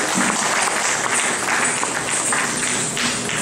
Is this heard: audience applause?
yes